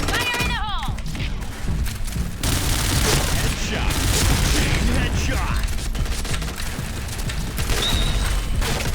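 Rapid bursts of gold-gun fire in a shooter video game, loud and dense with mechanical clatter, continuing for several seconds, with someone talking excitedly over it.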